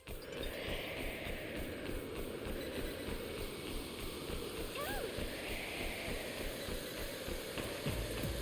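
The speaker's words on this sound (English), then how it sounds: "I swear, the flowing water in this dungeon gets louder every time I play this game" Flowing water in a Neptunia Re★Verse dungeon rushes steadily and evenly throughout, a constant broad wash with faint splashing, moderately loud and unbroken.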